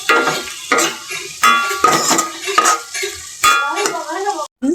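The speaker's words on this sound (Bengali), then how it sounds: "এই পর্যায়ে হেওয়া শুটকি গুলো আমি দিয়ে দিব।" Dried heowa fish tipped into a pan and stirred alongside a sizzle, with repeated scraping and clinking of a utensil against the metal in close, irregular bursts.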